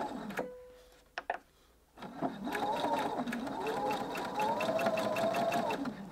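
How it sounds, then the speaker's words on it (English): Bias binding is stitched on a sewing machine: after a few quiet clicks and brief handling sounds, the machine starts up and runs in a steady, rapid, rhythmic whir for about four seconds, close but fairly soft. "I'll just stitch that in place in the usual way."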